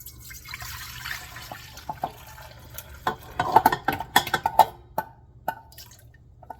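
Milk poured into a container while being mixed with warm water, coming through as close liquid splashes, drips and gurgles that start sparse and grow busier and louder in a burst of splattering near the end.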